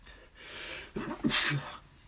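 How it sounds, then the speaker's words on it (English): A single sharp sneeze close to the microphone from a commentator during a live football play-by-play broadcast, preceded by a quick intake of breath. "Just sneezed."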